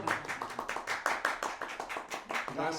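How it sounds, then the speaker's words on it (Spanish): An audience applauds to welcome Archbishop Fernando Chomalí, a dense, even crowd clapping that goes on steadily for about three seconds, heard from a little distance. "Un aplauso, bienvenido, don Fernando."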